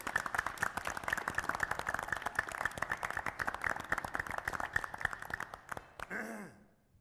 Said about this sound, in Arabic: والان مع وصول سيادة الرئيس المنتظر تصفيق